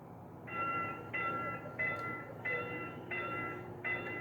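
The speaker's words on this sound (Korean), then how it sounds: "열차가 곧 들어온다는 경보음이 쉴 새 없이 울리고" A railroad crossing alarm sounds in steady, evenly spaced electronic beeps, about six in a row, over a low rumbling background as a train approaches.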